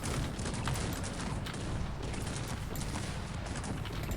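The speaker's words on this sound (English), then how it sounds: "But the multi-barrel cannons, they deal so much damage." Rapid volleys of multi-barrel cannon fire in the strategy game Cossacks 3 during a battle with Prussian forces, dense overlapping booms and crackling blasts filling the whole stretch without a break.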